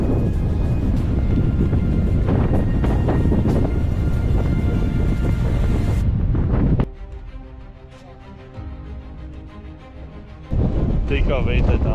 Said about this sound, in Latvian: Es nezinu, kāpēc ir šausmīgs liels vējš